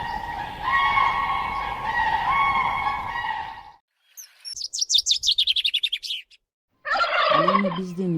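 A crane calling with drawn-out, ringing trumpeting notes for several seconds, followed by a fast burst of gobbling chatter and a final loud, wavering call.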